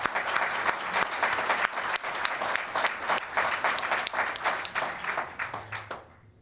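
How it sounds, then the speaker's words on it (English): Audience at a Black History Month luncheon applauding, a lively burst of many hands clapping with uneven peaks, moderately close, tapering off and ending at the close. "Let's give her a round of applause."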